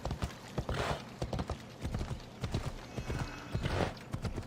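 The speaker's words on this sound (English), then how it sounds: "Let's get my horse." Horse hooves clatter in a fast galloping rhythm in the Assassin's Creed Odyssey video game, close and loud, with a brief whinny-like sound.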